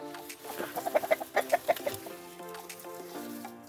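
Hens cluck in a quick burst of short, close calls that peaks and then trails off into quieter background clucking.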